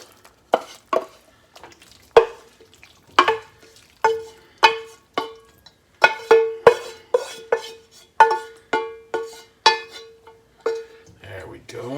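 A spoon stirs a cauliflower dirty rice mixture in a pan, making a steady run of sharp metallic clinks and scrapes against the cookware, close and clear over a quiet background.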